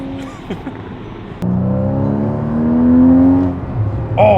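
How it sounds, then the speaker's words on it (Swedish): A Porsche Cayman S engine revs up with a rising, throaty growl, loud and close, after a quieter idle at the start. "Vilket ljud!"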